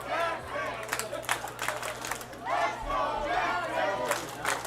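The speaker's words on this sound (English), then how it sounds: "Crowd into it now." Spectators at an extra-inning minor league baseball game, Welland Jackfish against Barrie Baycats, raise swelling bursts of cheering and shouts over a steady background hum, rising and falling in waves.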